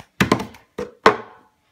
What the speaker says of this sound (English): you're gonna pick the cup up like this and tap.